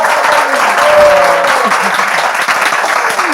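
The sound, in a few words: applause for a participant in a Bible quiz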